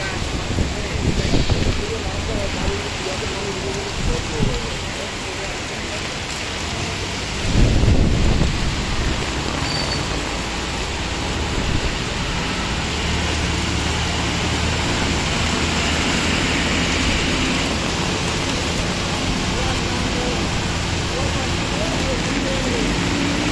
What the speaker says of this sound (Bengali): প্রচুর বৃষ্টি গাইস